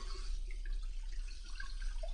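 Water streams from a salon shampoo bowl's shower head in a soft, steady hiss with faint splashing, fairly quiet and continuous throughout.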